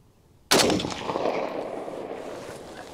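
A single sharp rifle shot from a Springfield Armory M1A Standard Walnut firing military-grade ammunition cracks loudly and close, then rolls off into a long fading echo.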